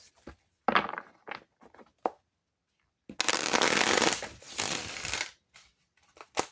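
Tarot cards shuffled by hand in several bursts of riffling and shuffling, with a long dense stretch in the middle and short card taps and thumps around it, close and clear with no talking.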